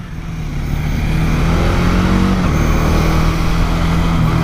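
A Bajaj Dominator 400 motorcycle engine drones loud and close while riding through busy Indian city streets, a steady low roar with wind rush and slight shifts in pitch, no talking.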